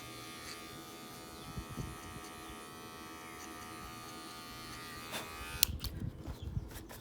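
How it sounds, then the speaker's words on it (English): Electric hair clippers buzz steadily and close up while cutting a skin fade on a person's head at home, the hum continuing throughout with brief clicks and handling noises toward the end. "now you take the clippers off and you go into an open clipper"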